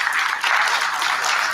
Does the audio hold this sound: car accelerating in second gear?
no